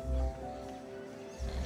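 A horse in the online riding game Star Stable gives a short whinny and snorting sounds, with a low rumble at the start and the end and a steady tonal background.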